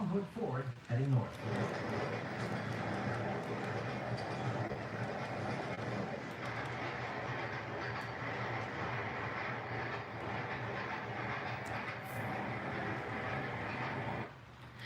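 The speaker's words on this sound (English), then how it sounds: "we see an N&W mixed freight led by a high-nose SD45. Long hood forward, heading north." An N&W mixed freight train led by a high-nose SD45 locomotive, long hood forward, rumbles steadily past with a continuous low drone and grinding rail noise; a voice talks over part of the passage.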